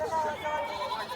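A goat bleats once at a goat market, a short wavering cry in the middle distance.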